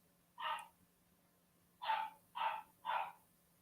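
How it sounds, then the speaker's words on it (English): A dog barks four times, a single bark followed after a pause by three quick evenly spaced barks, fairly close and distinct over a quiet indoor background hum. "My dog going mental again."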